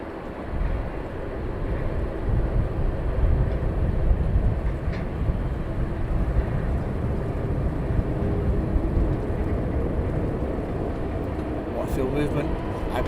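A DHL cargo aircraft departs East Midlands Airport at night, a steady, rumbling jet roar that holds throughout at moderate distance, with a voice talking over it.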